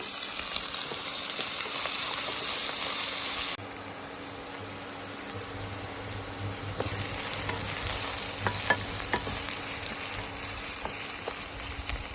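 Mustard seeds, cumin, green chili and onion fry in hot oil for a dried-fish thokku, a steady close sizzle that shifts in tone partway through, with stirring and small pops, no talking.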